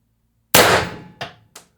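A suppressed Pistelle X-68 HPA air gun with a .686 barrel and Reaper suppressor at 1100 psi fires one sharp, loud shot with a clanging ring that decays, followed by two fainter metallic knocks.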